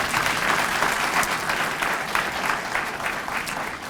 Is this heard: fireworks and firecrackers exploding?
no